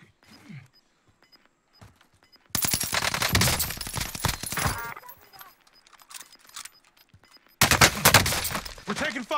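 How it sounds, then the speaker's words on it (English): Video game gunfire comes in two loud, dense bursts of rapid automatic shots, with quieter stretches and faint talk in between. "We're taking fire."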